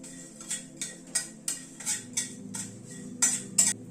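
A metal spoon ticks and scrapes against a pan in quick, evenly spaced strokes while asafoetida, cumin and fenugreek are stirred in hot oil, close and fairly soft over a faint sizzle.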